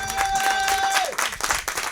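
Audience applause and cheering for a band after a live set, brief bursts of clapping over crowd noise with a sustained tone fading out early.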